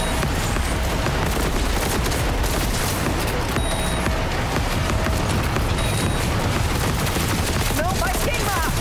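Rapid, relentless gunfire and impacts from combat in Cyberpunk 2077 Phantom Liberty, a dense continuous clatter of shots and bursts with no pauses.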